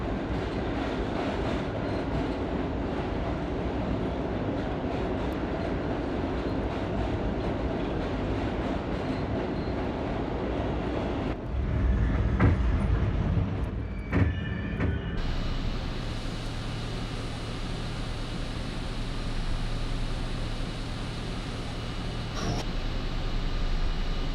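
R32 F subway train running express in a game, a continuous rumbling roar of rail cars with clickety-clack and a brief burst of squeals and clanks midway, then a steadier quieter hum, no talking.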